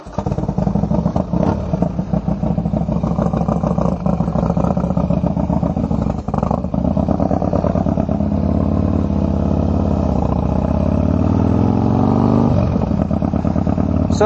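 A Harley-Davidson Dyna with a 95-inch motor rumbles loud and close throughout, its engine note holding steady with slight rises in pitch, with no talking.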